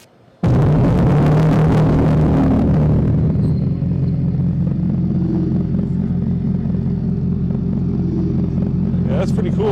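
2024 Dodge Charger Daytona with its Fratzonic exhaust system starts up with a sudden loud burst, a deep droning roar that revs and then settles into a steady sustained rumble, with voices over it.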